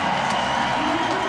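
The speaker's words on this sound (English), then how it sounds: "You can hear the crowd." A crowd cheers at the Simple Session 2017 BMX street finals, a steady, distant roar with scattered whoops and claps running throughout.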